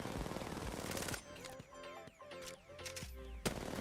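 An R99 submachine gun in Apex Legends aim practice fires rapid bursts, loud and close, with several short volleys separated by brief pauses and no speech.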